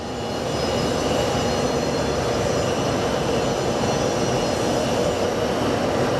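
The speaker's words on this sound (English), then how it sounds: "I love the sound of that jet bridge removing" An airport jet bridge at Sky Harbor International Airport retracting from a SkyWest CRJ, a steady mechanical rumble and hum that rises in the first second and then holds evenly.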